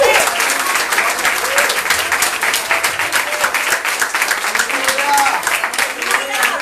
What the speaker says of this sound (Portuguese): Renda um aplauso de boas-vindas ao Espírito Santo.